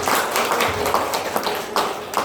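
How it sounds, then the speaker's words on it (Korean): A small audience claps together in a room during a Bible study talk, giving a brief, steady round of applause that continues evenly throughout. "잘하셨으니까 박수 한번 해주세요."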